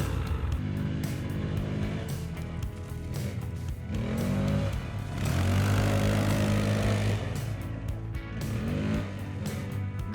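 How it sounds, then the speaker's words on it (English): Cheap Chinese 4x4 ATV driving on wet dirt in rear-wheel drive and low range, its engine droning steadily and close with rising, revving pitch swells throughout. "Driving in the rear-wheel drive is a fun, especially when you're engaged at the low range"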